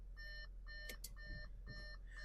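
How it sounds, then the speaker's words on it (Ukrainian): A 2014 Audi A4 B8 2.0 open-hood warning chime beeps repeatedly in short, evenly spaced electronic tones over a low engine idle, with a few faint clicks in between. "Відкритий капот пікає"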